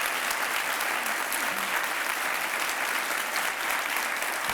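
A crowd at a microenterprise development awards event applauds for President Clinton, a loud, sustained, even roar of clapping from many people that holds steady for the whole stretch with no voices on top.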